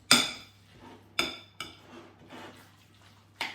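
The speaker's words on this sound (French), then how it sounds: "on mélange bien notre préparation" Chicken loaf mixture being mixed in a bowl with a utensil, giving a few sharp clinks and scrapes against the bowl followed by softer wet stirring, close and alone.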